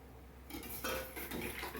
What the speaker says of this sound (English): I whisk the flour in